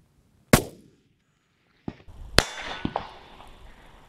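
A long-range rifle shot cracks sharply once. After a pause comes another sharp report, then a bright metallic clang as the steel target is struck, its ringing tail fading out.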